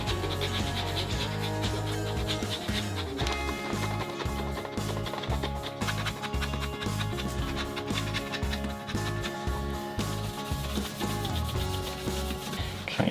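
Alcohol is rubbed by hand on a boat to lift sticker residue, a close run of repeated scrubbing strokes in a steady rhythm with no voices.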